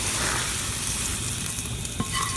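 Eggs and cheese frying in a pan, a close, steady sizzle with a couple of light clicks near the end.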